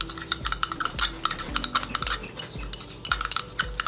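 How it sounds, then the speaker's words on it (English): A utensil stirs lactic acid into a lotion batch, giving rapid rhythmic clinks and scrapes against the container, close and continuous. "Mix it very well."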